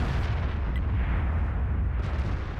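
Tank cannon fire in World of Tanks, a T49 firing HE rounds, heard as a sustained heavy booming rumble with dense low-end roar that stays loud across the whole stretch, no voices over it.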